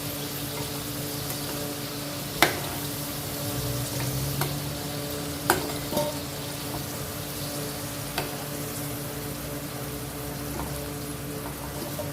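Potato pieces fry in hot oil over a high gas flame for aloo biryani, giving a continuous loud sizzle with a few sharp clinks of stirring spaced through it.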